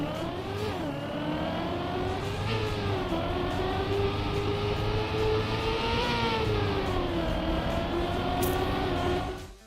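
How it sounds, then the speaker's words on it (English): A Trackmania game car's engine drones at high revs through bad, slow gear changes. Each shift makes the pitch sag gradually and drawn-out before it climbs again. The engine sound is loud and unbroken, with no voices. "Whereas a bad gear sounds like this."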